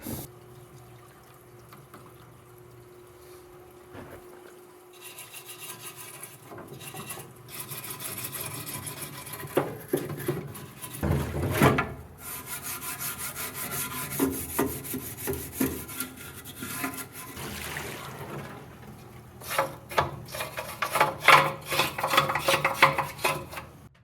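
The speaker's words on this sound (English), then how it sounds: "Parts washed, scrubbed, wiped down, scraped." Jeep Cherokee XJ valve cover parts being scrubbed and scraped clean, with uneven rasping and rubbing strokes, some wet washing, building to denser, louder scraping toward the end, close up and without speech.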